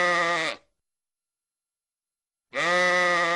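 Sheep bleating in a pen, two loud, close, harmonic bleats separated by about two seconds of silence, with no voices.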